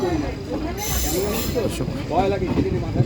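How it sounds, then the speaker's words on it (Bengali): Moving passenger train on Indian Railways entering Jalpaiguri Town station, heard from on board: steady rumbling wheel and carriage noise with high hiss and faint squealing tones throughout, with muffled voices underneath. "চলন্ত প্যাসেঞ্জার ট্রেন এই মুহূর্তে প্রবেশ করছে জলপাইগুড়ি টাউন স্টেশন"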